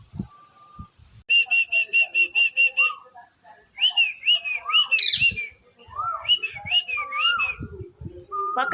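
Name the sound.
koel bird calling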